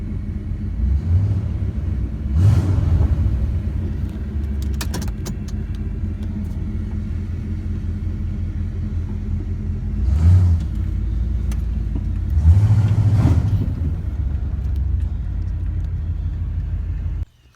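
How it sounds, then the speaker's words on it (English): The engine of a 1996 Ford F150 muscle truck with new gears runs steadily, a deep continuous rumble that swells in a few brief revs before cutting off at the end. "I'll cut to a clip here of it running with that tachometer so you can see it."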